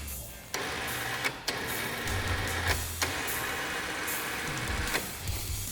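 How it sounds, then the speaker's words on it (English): A SuperATV 6000 lb electric winch on a Polaris RZR XP 1000 spools in under wireless remote control, a steady mechanical whir broken by several abrupt clunks and starts, with no talking. "you can spool your winch in utilizing your wireless remote"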